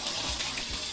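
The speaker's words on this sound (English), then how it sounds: "you rinse it, you get rid of the water" Rice being rinsed in water in a kitchen, a brief close wash of sloshing, rushing water with no talk.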